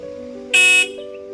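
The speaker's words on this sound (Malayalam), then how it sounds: "ഏട്ടൊന്ന് ഹോൺ അടിച്ചിട്ട് എടുക്കണം അവിടുന്ന്" A single car horn blast, loud and close, lasts about a third of a second against a steady background hum on a Palakkad village road.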